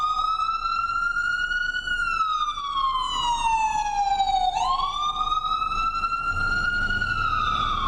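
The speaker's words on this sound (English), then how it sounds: "Susan, I can hear you're battling the sirens there while they pass you." Emergency sirens wail loudly past a reporter at a live street broadcast, one long rising and falling tone sweeping up and down and dipping sharply as the vehicles go by, with steady traffic rumble beneath.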